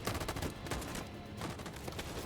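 Rapid bursts of gunfire rattle through a battle scene in the video game Detroit: Become Human, with sustained volleys of shots layered over a steady rumbling backdrop, fairly quiet overall.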